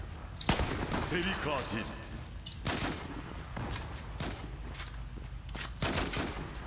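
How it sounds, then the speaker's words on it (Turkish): Bursts of automatic gunfire trade back and forth in the online shooter Zula, sharp rapid volleys with brief gaps between them, close and loud, while someone talks excitedly over the shooting. "Haydi ben de vuruyorum o da vuruyor ölmüyoruz"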